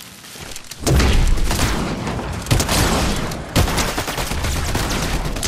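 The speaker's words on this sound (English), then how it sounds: "Shots somewhere in this direction." Gunfire in Fortnite zero build: a loud, dense burst of shots starts abruptly and keeps going, with sharper cracks standing out partway through.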